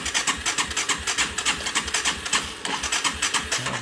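A Yamaha TW200 motorcycle engine cranks and runs on a new Neptune YTZ7S AGM battery, a loud, close, rapid pulsing rhythm holding steady throughout with a brief dip midway.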